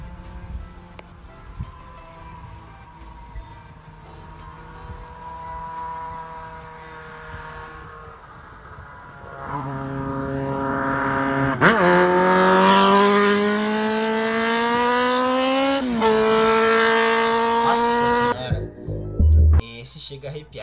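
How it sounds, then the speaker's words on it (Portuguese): Four-cylinder naked motorcycle engine growling at idle, then rising into loud revving roars with climbing pitch from about ten seconds on, close and dominant before cutting off sharply near the end. "Escuta esse ronco aqui, ó."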